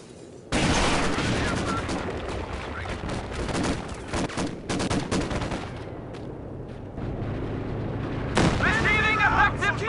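Gunfire and explosions in the video game Company of Heroes 2, a dense, loud stretch of rifle and machine-gun bursts mixed with booms and artillery blasts, rising again near the end, with soldier voices shouting over the battle.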